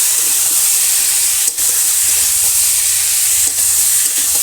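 Fried cauliflower being sautéed with ginger, cumin and chili paste in a village kitchen, a loud continuous sizzle and hiss of hot oil with brief stirring scrapes, no speech.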